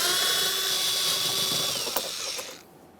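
A ratchet or socket tool with a 7mm socket whirs and clicks steadily, backing out door mounting bolts on a 2015-2020 Ford F-150 rear door, then cuts off abruptly.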